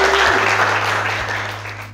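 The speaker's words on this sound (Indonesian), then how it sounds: "Tepuk tangan buat kelompok 1, silakan." In a classroom, applause breaks out for group 1 as they come to the front. The dense clapping starts full and fades gradually over two seconds.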